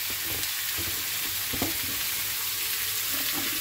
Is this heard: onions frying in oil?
yes